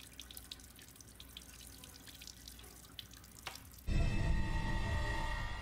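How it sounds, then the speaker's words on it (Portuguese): A faucet in Resident Evil Village turns on partway through, and a loud steady rush of running water pours into a basin. Before that, quieter game ambience with faint clicks plays. "Essa torneira é pra lavar a aliança."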